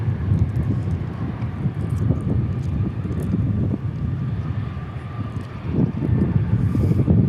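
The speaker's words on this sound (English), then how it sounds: "We finally get one though on the west side, Barcelona 193 heavy, 777-200" A Boeing 777-200 heavy jet at Dallas Fort Worth Airport makes a continuous low engine rumble at moderate distance, with some wind buffeting the microphone and no talking.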